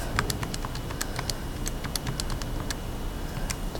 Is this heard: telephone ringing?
no